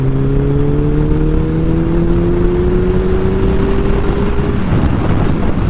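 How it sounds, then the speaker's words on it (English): Motorcycle engine on a touring ride toward the Cameron Highlands in Malaysia, a loud, close, continuous drone whose pitch climbs steadily as the bike accelerates, then drops near the end, with wind rush throughout. "You can hear the engine."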